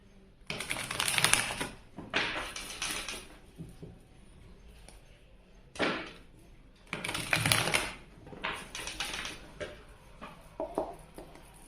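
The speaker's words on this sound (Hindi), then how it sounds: "तो चलिए हम कार्ड शफल करते हैं और रीडिंग को करते हैं स्टार्ट।" Tarot cards being shuffled by hand for a tarot reading, heard as several quick riffling bursts of papery flutter with short pauses between them, close and fairly soft.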